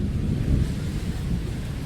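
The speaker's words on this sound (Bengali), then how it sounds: "সেই দুপুর থেকে প্রচুর পরিমাণে বজ্রপাত হচ্ছে" Thunder rolls through a heavy rainstorm, a loud, continuous low rumble with steady rain and wind noise blended throughout and no voices.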